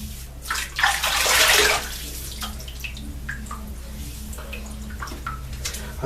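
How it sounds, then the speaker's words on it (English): Water running and splashing over a head during washing, a brief louder gush early on that settles into a steady faint trickle with drips, close by. "going to wet my head here."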